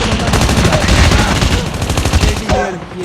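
Rapid automatic gunfire and bursts of shots from an online survival shooter game, dense and loud for several seconds with a voice talking under and between the firing.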